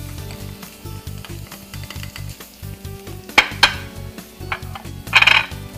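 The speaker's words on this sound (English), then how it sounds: "we're going to go ahead and add our onions" Onions are added to taco meat cooking in a pan, giving a low sizzle under a rhythmic mechanical hum, with a few sharp metallic clinks and a brief louder burst of frying near the end, no talking.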